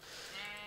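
Sheep bleating in a Minecraft-style blocky survival game, a single sustained, fairly loud bleat close up with no talk over it.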